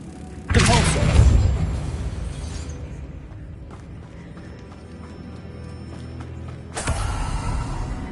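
The Depulso spell is cast in Hogwarts Legacy, a sudden loud whoosh and rumbling creak that fades into a low ambient hum before a second strong burst near the end, with no voices.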